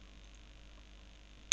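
A single quiet computer mouse click at the very end, after near-silence with a faint steady hum, while saving a file during a CentOS Linux install in VirtualBox.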